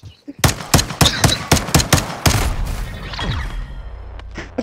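Modern Warfare 2 video game gunfire: a rapid burst of about nine loud, sharp automatic shots followed by a fading rumble and softer game noises.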